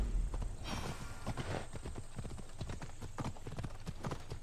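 Hooves clip-clop steadily from a black winged, horned horse mount in Assassin's Creed Odyssey: Fate of Atlantis, a brisk, even gait that sounds close and fills the whole stretch over a soft game ambience.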